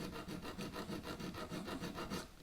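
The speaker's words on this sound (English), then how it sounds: "I'm going to file this flat, but then I'm going to file around the edge until that ball will slide back on" A hand file rasps back and forth across the end of a cut-down car antenna, filing it flat in steady, evenly spaced strokes, close and rhythmic with no talking.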